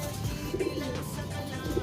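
Soft, low cooing of pigeons in a loft, a few murmured calls repeating over a constant background hum and rustle in an enclosed space.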